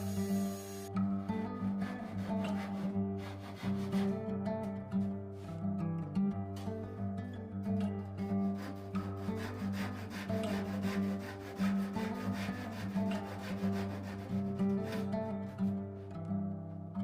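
Hinge housing sections being cut into a wooden folding workbench, a continuous dry rasping and rubbing of a tool against wood with a steady rhythm, moderately close and without talk.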